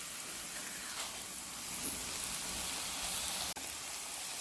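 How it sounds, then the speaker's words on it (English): Crumbled sausage without casings browning in a pan, a faint steady sizzle close by with a light scrape partway through, no talking. "I just want to start getting these cooked and browned"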